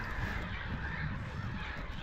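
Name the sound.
birds calling outdoors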